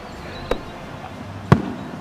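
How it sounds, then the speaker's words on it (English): Fireworks set off by people during a Fourth of July celebration at Starbase: two sharp, brief pops about a second apart, the second louder with a short low resonating tail, heard over a quiet outdoor background with no talking. "we heard a loud whistle and then loud resonating pop behind us"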